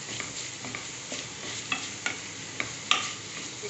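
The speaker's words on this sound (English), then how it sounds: "Okay, you give it a good mix." A spoon scraping and turning a momo filling of capsicum, broccoli, cabbage and carrot with turmeric, pepper and salt in a pan, with quiet repeated scrapes and taps every half second or so over a soft, low sizzle.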